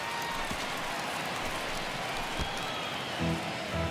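Dense, steady crowd cheering fills a baseball stadium during a Dodgers versus Brewers game as fans rise on a full count, a continuous roar with a few sharp claps and thumps.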